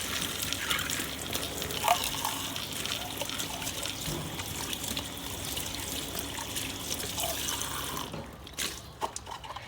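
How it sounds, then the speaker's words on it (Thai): Tap water runs steadily while foam is rinsed off a drinking cup in a sink, a continuous close splashing stream that cuts off near the end, followed by a few small clinks. "พอเรียบร้อยแล้วแบบนี้ก็ล้างฟองออกค่ะ"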